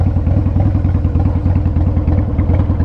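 Harley CVO Wide Glide Switchblade motorcycle engine running loud and close, a steady low rhythmic thumping with a lumpy idle-like pulse throughout, no talking.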